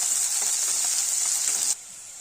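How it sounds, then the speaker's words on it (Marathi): Chopped onion sautés in a hot pan with a steady, close frying hiss that stops abruptly near the end, leaving quiet room tone. "एक कापलेला मोठा कांदा होता तो टाकून घ्यायचा। थोडंसं याला मस्त परतून घेऊ।"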